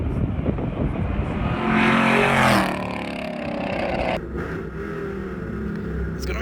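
A loud 400 bhp Chrysler 300 race car engine roars and revs, rising in pitch as it accelerates, then settles into a steady driving drone.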